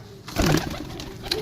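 Pigeons in a loft give a short burst of close, low cooing, followed by quieter murmuring against faint background hum.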